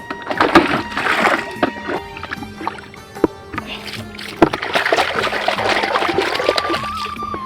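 Water being collected at a village pond's bathing ghat: close sloshing, dipping and trickling splashes in irregular bursts, with bumps and small knocks, fairly loud.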